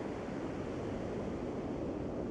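Ocean waves roll in along a kelp-strewn shore where cod are fished, a dense steady wash of surf and wind noise filling the whole moment without voices.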